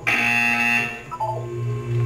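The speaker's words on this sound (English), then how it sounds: "When you hear the buzzer, look up at the ceiling." A buzzer in the video game Portal 2 gives a loud, harsh electronic tone that holds for about a second, then shifts into a lower, sustained hum that fades out.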